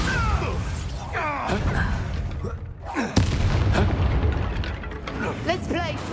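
Bombarda blasting spell in Hogwarts Legacy goes off as a sharp close blast midway, followed by rumbling booms and magical whooshes. Voices and spell incantations are heard throughout the game combat.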